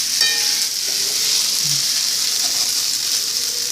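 Sabudana upma is stirred in a frying pan with a constant close hiss of sizzling oil and soft scraping of the spoon through the pearls.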